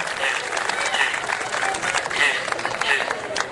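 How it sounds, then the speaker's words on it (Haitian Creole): An audience claps steadily at a gathering, a dense, continuous patter of many hands with gentle swells, close and lively, while a voice carries over it. "Oui, on applaudit."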